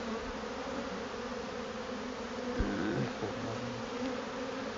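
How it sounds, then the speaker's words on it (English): Honeybees buzz steadily around an open hive during a quick inspection, a dense continuous drone that holds moderately loud throughout, with brief louder swells as individual bees pass close. "There's a bee right there."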